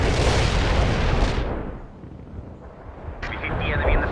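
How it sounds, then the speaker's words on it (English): Artillery barrage in the World in Conflict strategy game, heavy rumbling booms and crackling blasts that swell and fade, then a higher whistling burst at the end, loud and close. "Heavy fire support here. Artillery strike."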